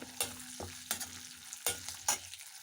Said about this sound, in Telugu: వెల్లుల్లిపాయలు పచ్చిమిర్చి వేసి వేయించుకోవాలి